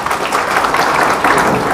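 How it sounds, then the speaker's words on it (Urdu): An audience at a talk on girls' higher education bursts into loud, dense applause for a child, steady and close throughout with no voices over it. "تالی بجائیے بچے کے لیے"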